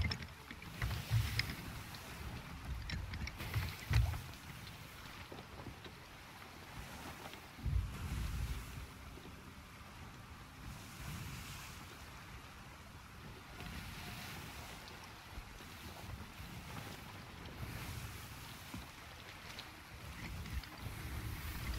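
Wind gusts over the open sea in the Sea of Thieves game, a soft, hissing rush with waves beneath it and a few louder swells early on.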